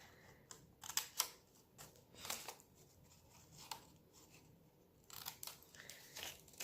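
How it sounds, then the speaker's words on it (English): Scissors snipping the two small edges off the decorative top of a handmade paper bag made from scraps: a few quiet, brief crisp cuts and paper rustles spaced irregularly, fairly faint and close, with no talking. "I'm going to cut off these two little edges here."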